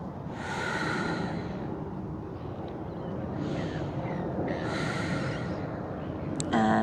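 Deep, slow breaths in and out while holding a yoga pose, several long airy inhales and exhales close to the ear, followed by a brief sharp sound at the end.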